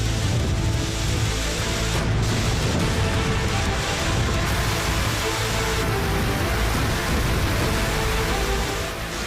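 A pre-monsoon storm with rain sweeps across Delhi, Uttar Pradesh and Haryana: a loud, dense wash of downpour and wind roars without a break for the whole stretch.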